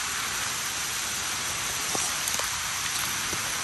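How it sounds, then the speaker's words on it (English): Sudden steady rain pours down outdoors during handline fishing, a dense even hiss of drops striking surfaces, with a few louder splats and no talking. "Rain that come down sudden"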